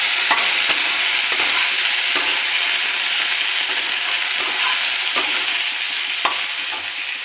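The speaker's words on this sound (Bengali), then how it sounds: "লবণ হলুদ দিয়ে একটু ভেজে নিয়েছি" Frying with salt and turmeric in a pan for a fish curry, a loud continuous sizzle broken by periodic scraping stirs of a spatula, close up with no talking.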